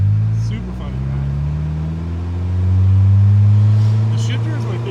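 A 1996 Mitsuoka ZERO1 driving with the roof off and doors on: a loud, close engine drone that rises and falls with throttle, swelling near the middle, plus wind noise.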